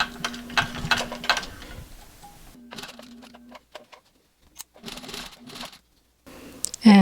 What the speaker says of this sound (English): And then backstitch a little bit.